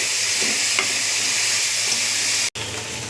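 Green chilies, curry leaves and onions frying in hot oil: a loud, continuous sizzle with faint stirring, broken once by a very brief silence near the end.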